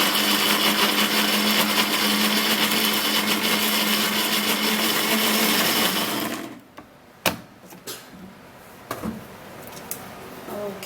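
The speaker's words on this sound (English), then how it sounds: "then I'll leave it inside the blender and blend" Kitchen blender running on a few skincare ingredients with a little water, a loud steady whir for about six seconds that then stops, followed by faint knocks and clatter.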